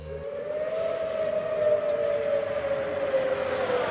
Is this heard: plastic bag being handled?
no